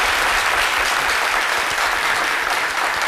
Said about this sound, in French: Et je voudrais qu'on puisse encore applaudir pour notre docteur en humour.